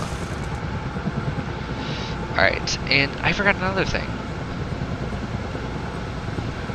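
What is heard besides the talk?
helicopter flying in Minecraft heli mod video game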